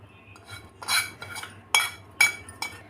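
A spoon scrapes and clinks against a bowl or jar as oily spice masala is spread over cut mango pieces for homemade mango pickle, with a few sharp metallic taps and soft stirring scrapes at close range.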